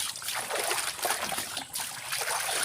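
Water runs steadily from a faucet outdoors for laundry washing, a continuous close trickling and splashing hiss with no speech over it.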